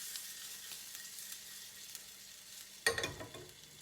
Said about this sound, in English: we're going to get the freshly cut ginger, and we're just going to like fry it in the sesame oil for a couple of seconds